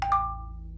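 A mobile phone gives a short two-note message chime over a quiet low hum, a brief bright ping that fades out quickly.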